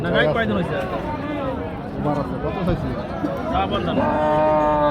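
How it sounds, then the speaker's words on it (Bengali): A Friesian cross dairy cow at a busy rural cattle market in Chaugachha, Jashore, amid loud crowd chatter and talking, with a moo that is hard to pick out from the din. "এই যে আমার সামনে একটা ফ্রিজিয়ান কুরাসের গাভি"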